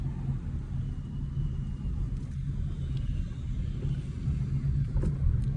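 Car interior during a driving lesson on a training route in Brovary, with a steady low engine rumble and road noise, continuous and close, with no talk.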